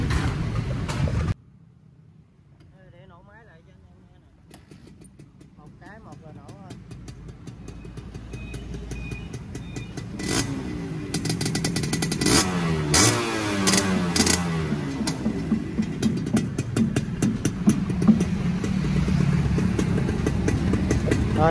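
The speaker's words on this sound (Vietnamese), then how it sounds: "À, để nổ máy lại cho anh em." A Suzuki Xipo motorcycle engine starts after a short quiet gap and settles into a running idle with occasional revs, loud and close, the engine noise building and holding steady.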